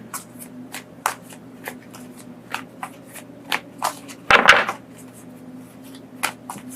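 Tarot cards being handled and shuffled at close range, with soft repeated riffles and slaps, one louder burst of shuffling partway through, and no talking.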